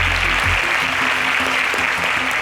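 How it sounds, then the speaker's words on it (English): A studio audience at an agricultural quiz show applauds contestants who answered correctly, producing a dense, loud, continuous wash of clapping that fills the short moment, with faint tonal sound underneath. "A round of applause for them."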